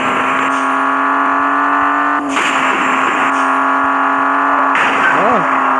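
A truck engine drones loudly and steadily while driving, with a couple of shifts in pitch as it revs and changes gear, close and continuous.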